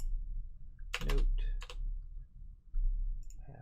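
Keys clatter on a computer keyboard as someone types into Notepad, a quick burst of clicks followed by another short flurry and a few scattered taps, close and fairly quiet against a soft hum.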